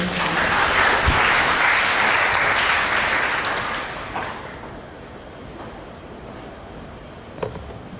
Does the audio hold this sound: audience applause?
yes